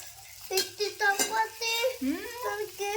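Puris fry in hot oil, a soft sizzle running steadily beneath a voice as she speaks nearby.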